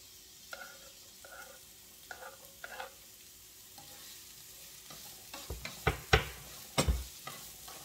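Chopped onion and chile going into a hot pan and frying, with a steady sizzle under short scraping stirs that grow louder and more clattery toward the end, no talking.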